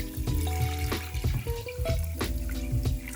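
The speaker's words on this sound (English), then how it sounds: "Let's cover this with some cold water." Cold water pours steadily into a pot for ackee and saltfish with a splashy rush, over some clanking of cookware nearby; no one speaks.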